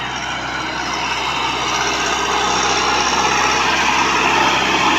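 A tractor with a Stanadyne injection pump runs close by on a Punjab farm, its engine holding a steady, loud drone that builds slightly over five seconds.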